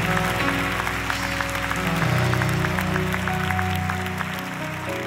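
A church congregation claps along in a large worship hall, a dense continuous wash of hands over sustained music, loud and steady throughout.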